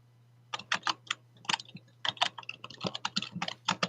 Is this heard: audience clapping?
no